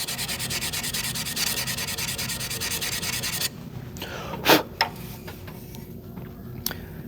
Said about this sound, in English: I do this until I can't see any more circular sanding scratches.